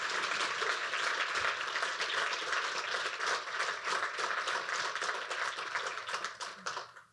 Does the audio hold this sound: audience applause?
yes